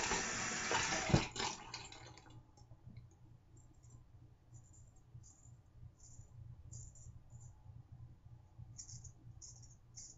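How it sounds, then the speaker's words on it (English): A shaving razor blade is rinsed under running tap water in a loud hissing gush of about two seconds, which cuts off into a quiet room hum with faint ticking. "Rinse the blade a bit."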